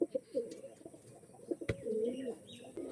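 Pigeons at a sale coo softly and repeatedly nearby, with occasional chirps and a brief thump of movement, over quiet background noise.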